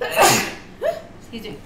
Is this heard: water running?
no